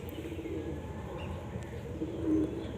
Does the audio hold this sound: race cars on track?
no